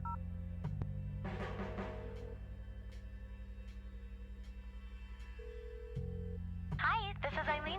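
Telephone sounds from the video game Kathy Rain: a keypad dial tone and steady ringing tones on a phone line, fairly quiet and continuous, ending as voices start to talk.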